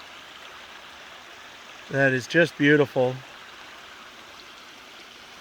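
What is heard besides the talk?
little creek and waterfall flowing in the woods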